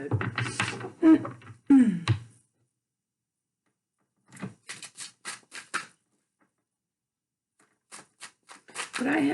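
Tarot cards shuffled in short riffling bursts, close and quiet, separated by pauses, with a person talking near the start.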